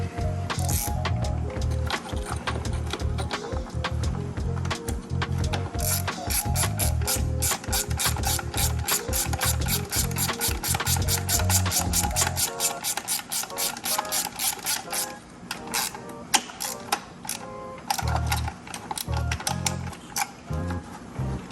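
Rapid, steady clicking of a socket ratchet wrench during a cylinder head install on a Jeep XJ, running nearly continuously at close range with brief pauses and shifts in pace.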